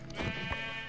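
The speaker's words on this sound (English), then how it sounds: "Sheep." A sheep bleats in the Minecraft video game, one short, clear bleat close up over a steady game background, with no talking.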